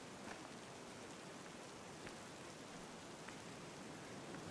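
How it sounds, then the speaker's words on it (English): Steady rain patters down evenly in Genshin Impact, a continuous soft hiss with faint scattered drop ticks and no voices. "I need to look for shelter from the rain before I catch cold."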